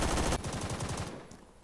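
The Colt Mars fires a rapid automatic burst in the Phantom Forces shooter game, a dense rattle of shots that cuts off after under half a second and leaves a fading tail.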